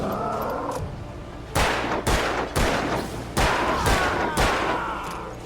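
Gunshots in the video game Alan Wake, a run of loud, sharp reports spaced unevenly, about seven shots over a few seconds, following quieter ambient game sound.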